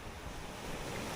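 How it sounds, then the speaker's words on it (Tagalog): Ocean waves breaking along the shore of Siquijor in the Philippines, a dense, loud roar of surf mixed with heavy wind buffeting the microphone, continuous and without talk. "Kasi malakas daw yung alon kahit hindi naman. Pero kung naririnig nyo, yun."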